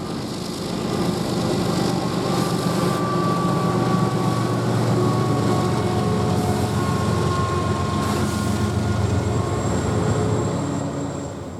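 Union Pacific AC4400 locomotive in Southern Pacific paint, running as a rear DP unit on a freight train near North Platte, Nebraska, rumbles steadily past at close range, with continuous loud engine drone and wheel noise, and no voices.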